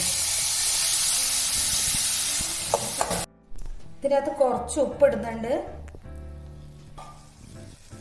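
Small pineapple pieces sizzle loudly in a hot pan with a strong steady hiss for about three seconds, then a voice talks over quieter pan sounds and the occasional scrape of stirring.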